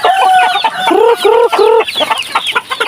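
Pet chickens being fed ripe jackfruit cluck loudly and close by in quick drawn-out calls that rise and fall in pitch, with several birds joining in.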